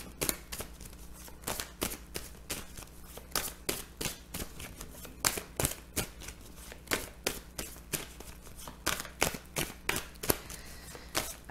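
A deck of oracle cards (Oracle des Miroirs) being shuffled, with quiet, repeated sharp riffling snaps at a close, uneven rhythm throughout.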